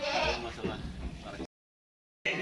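Goats bleat at a goat-judging training event, the calls mixed with people talking nearby for about a second and a half before a sudden silent gap, then the noise returns.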